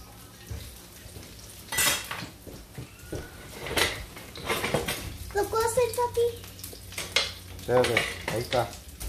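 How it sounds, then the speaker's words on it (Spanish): Onion browns in frying oil in a home kitchen, a soft sizzle under scraping and stirring of a utensil against the pan, with clinks of cookware while people talk throughout. "aceite para dorar la cebolla"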